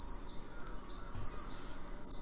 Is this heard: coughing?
no